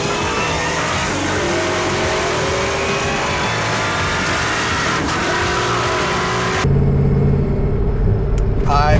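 A supercharged 2003 Ford Mustang Cobra Terminator V8 rumbles loudly while driving, its engine drone holding steady before it abruptly shifts to a deeper, heavier rumble.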